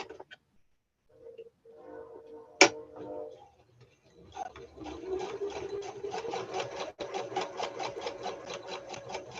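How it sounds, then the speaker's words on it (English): A sewing machine stitches a zigzag seam. After a sharp click and a faint hum, steady, rapid, rhythmic stitching runs close and moderately loud to the end. "then you'll sew one piece, just zigzag effect"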